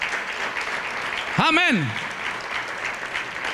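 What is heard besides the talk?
congregation applauding in church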